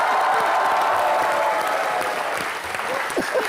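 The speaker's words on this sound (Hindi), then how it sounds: "श्रद्धा, सिद्धार्थ और रितेश के लिए जोरदार तालियां।" Studio audience on the comedy show Comedy Nights With Kapil bursts into loud, dense applause for Shraddha, Siddharth and Riteish, a steady close wash of clapping with faint crowd noise and no talk.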